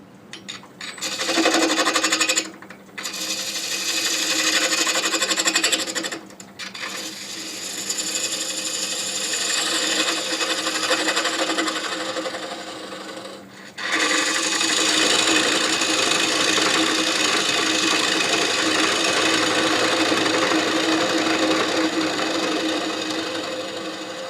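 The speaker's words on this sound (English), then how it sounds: "using a 1/2 inch spindle gouge, I'm going to carefully just kind of trim off the end to make it slightly concave" A half-inch spindle gouge trims the end of a spinning workpiece on a wood lathe, making a loud continuous scraping, hissing cut interrupted by two or three brief pauses where the tool lifts off.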